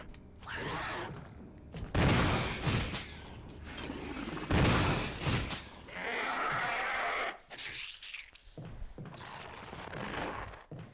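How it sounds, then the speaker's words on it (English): Shotgun blasts in the survival horror game Resident Evil HD Remaster, several loud booming shots about two to three seconds apart, each with a broad burst and a ringing tail, mixed with game noise. "Shotgun."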